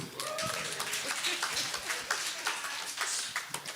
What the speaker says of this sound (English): Y'all clap for that too.